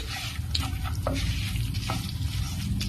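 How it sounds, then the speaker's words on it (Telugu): Garlic cloves and seasonings frying in oil for a cucumber chutney, a close sizzle with several sharp spatula scrapes and clicks against the pan, no voices. "ఇందులోనే నాలుగు ఎల్లుల్లి రొప్పలు కూడా వేసేసి ఇలాగా ఫ్రై చేసేద్దాం"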